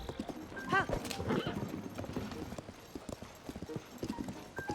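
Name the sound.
horse hooves galloping in the video game Tears of the Kingdom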